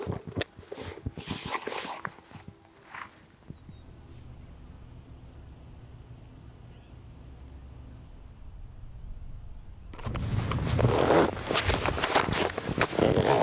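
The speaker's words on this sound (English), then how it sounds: "you've got the waterproof zipper right here" Someone works the waterproof zipper on a pair of breathable hunting waders, giving a few short rasping pulls amid scraping handling noise, then a quieter stretch before loud, broad rustling returns.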